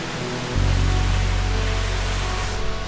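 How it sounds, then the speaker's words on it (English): Steady roar of a waterfall, a broad unbroken wash of falling water that swells louder after the first half-second and holds close and constant, no voices. "let's look at the waterfall one more time"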